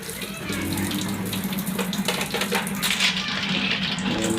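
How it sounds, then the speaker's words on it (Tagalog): An eight-year-old child washing dishes under a running tap, steady splashing water with occasional clinks of plates, moderately loud and continuous throughout. "Bali maghuhugas ka na ng plato."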